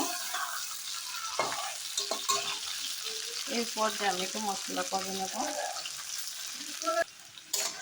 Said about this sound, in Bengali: দেখো টমেটো আলু পেঁয়াজ সবগুলি ভাজা হয়ে গেছে